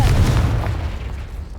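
An Incendio fire spell blast in the video game Hogwarts Legacy: a single heavy booming burst that starts loud and rumbles as it fades over a second or so.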